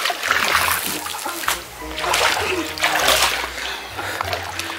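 A person pushed into a cold salt water pool makes a sharp splash, followed by sloshing and splattering water that rises and falls in bursts, with voices faintly in the background.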